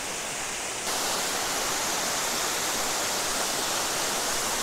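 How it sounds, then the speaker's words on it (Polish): Waterfall in a rocky canyon in rural Japan, a dense, constant roar of falling water that swells louder after the first second and then holds steady, close by with no voices. "No i akurat wodospad się pojawił."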